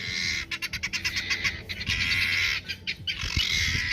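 Guinea fowl separated from the flock call loudly and repeatedly, harsh rhythmic squawking cackles in quick bursts that rise and pause, close by outdoors, with no talking.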